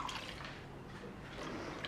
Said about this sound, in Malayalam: നമുക്കൊരു 2 ഗ്ലാസ് വെള്ളം ഞാൻ അതിലേക്ക് ഒഴിക്കുന്നുണ്ട്.